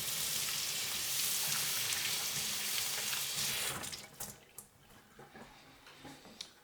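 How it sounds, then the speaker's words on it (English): Tap water runs in a firm, loud, steady stream over a leek being rinsed of sand and grit, then cuts off, leaving scattered drips and light handling sounds. "I run this under a firm stream of water just to remove any sand or grit"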